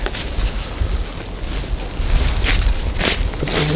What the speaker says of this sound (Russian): И дует страшный ветер.